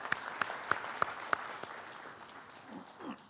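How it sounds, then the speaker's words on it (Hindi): An audience at the Chunav Manch 2019 event welcomes Union minister Prakash Javadekar with applause. A few sharp, evenly spaced claps ring out clearly, then the clapping softens and fades. "एक बार तालियां जारी रहें।"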